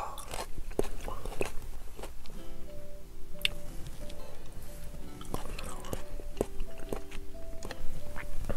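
Sushi being bitten and chewed close to the mic, with soft wet chewing and occasional crunchy bites running throughout, and faint quiet voice sounds in the background.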